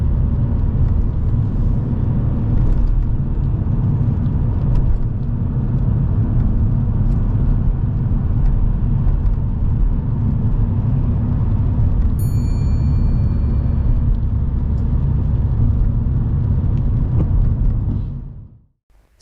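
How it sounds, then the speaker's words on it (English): A car overtaking in the left-hand lane of a road, a loud, close, continuous road and engine rumble that holds for many seconds, then cuts off abruptly. "a vehicle now moves into the left-hand lane to overtake him"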